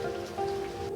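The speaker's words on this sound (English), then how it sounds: "the raining started" Steady rain falls on a surface, a soft continuous patter that is fairly quiet and even throughout the short stretch, with a faint low tone beneath it.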